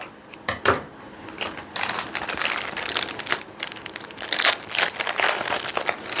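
Gift wrapping paper being cut and handled while packing Christmas stockings and wrapping cat gifts, a busy run of close crinkling, rustling and snipping sounds with no talking.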